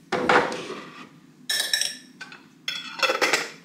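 Homemade sourdough breadcrumbs with garlic powder and a pinch of salt being stirred in a bowl: three separate bursts of close scraping and clinking, with short quiet gaps between them and no voices.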